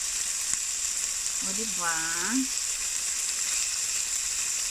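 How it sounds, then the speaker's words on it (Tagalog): Onion and garlic sauté in hot oil with a steady close sizzle throughout, while a voice briefly speaks over it. "Tapos saka natin igisa yung sibuyas at bawang."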